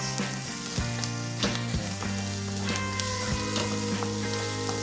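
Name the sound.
sautéing celery, garlic and white onions in a pan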